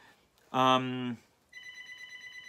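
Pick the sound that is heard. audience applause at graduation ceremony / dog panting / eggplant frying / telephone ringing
telephone ringing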